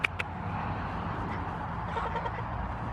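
Poultry at a backyard coop are herded in for the night, giving a few faint clucks and soft calls over a quiet, low outdoor rumble, with no voices.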